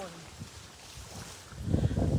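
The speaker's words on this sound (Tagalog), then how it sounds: "Malakas talaga hangin dito." Gusty strong wind buffets the microphone during net fishing, building into a loud, rumbling rush toward the end, with faint outdoor background underneath.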